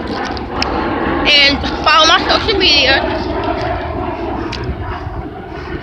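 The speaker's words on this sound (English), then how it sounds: "Sorry y'all, that's the airplane." A fixed-wing airplane passes overhead during a morning outing, its steady engine drone forming a broad, continuous rumble beneath a person talking close by.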